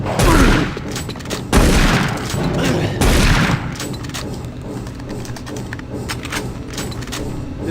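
Gunfire in the Doom 3 BFG VR game: several loud bursts of shots and booms in the first few seconds, followed by quieter, scattered reports and lingering noise.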